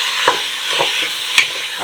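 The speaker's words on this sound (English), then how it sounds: "So normally you brown beef a little bit at a time." Beef browning in olive oil in a pan, a steady bright sizzle with a few sharper crackles and spits as pieces are turned and stirred, close and fairly loud, with no talking.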